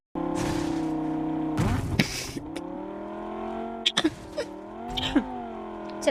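A car engine drones steadily in BGMI, revving and shifting pitch as the vehicle drives, with occasional sharp knocks and bumps breaking through near the listener.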